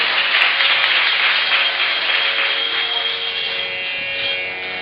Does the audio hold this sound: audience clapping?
yes